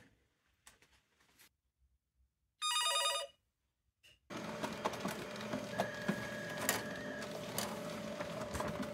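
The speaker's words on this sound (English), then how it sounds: "it's going to come back to this fax machine" A fax machine receives an incoming fax: a short electronic ring burst gives way to a steady, continuous whir of modem tones and printing, close and loud, with no talk.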